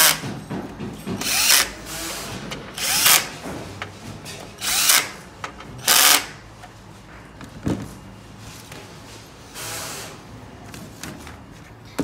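A power drill tightens the locks on a 3D printer's Y axis beam in several short, loud bursts of whirring, each lasting about a second, separated by quieter handling clatter.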